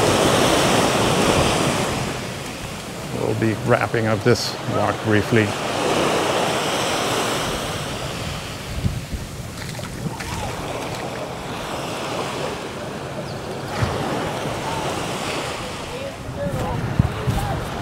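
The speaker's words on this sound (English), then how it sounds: "Wow, just a great splash here." Ocean surf washes and splashes continuously along Eagle Beach under gusty wind noise, with someone talking briefly over the waves partway through.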